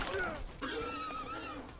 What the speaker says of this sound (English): Oh, horse.